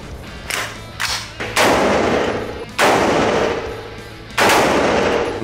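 Loud 7.62x39 rifle shots ring out at a shooting range, about five blasts at irregular intervals, each with a long echoing decay that overlaps the next.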